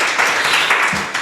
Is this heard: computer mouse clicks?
no